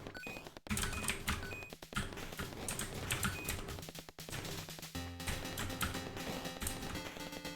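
Computer keyboard keys pressed in steady bursts of clicky taps during a Stardew Valley game, with game music and sounds running throughout, fairly close and continuous.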